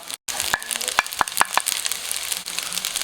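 Crab fried rice stir-fried in a hot pan right after the rice goes in, a steady close sizzle broken by a few sharp clinks of a spatula against the pan.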